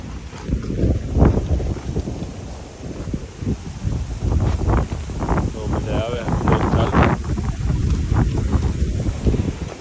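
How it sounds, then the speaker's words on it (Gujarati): Steady strong wind roars and buffets the microphone throughout, with gusty low rumbling surges and no clear talk over it. "પવન ફૂલ છે આજે."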